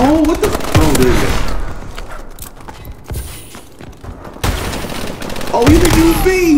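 Gunfire in the Call of Duty: Advanced Warfare multiplayer video game: several sharp, loud shots at the start and again near the end, with quieter scattered pops and game noise between them.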